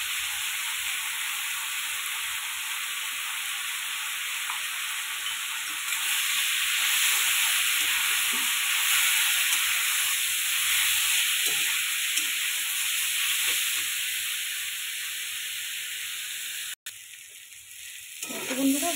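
A fish head fries in oil with turmeric in a pan, hissing in a dense, even sizzle that swells slightly midway, broken near the end by a brief thump and clatter.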